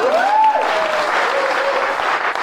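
A church congregation claps loudly and continuously for the Lord during a sermon, a dense close wave of applause with a brief raised voice near the start.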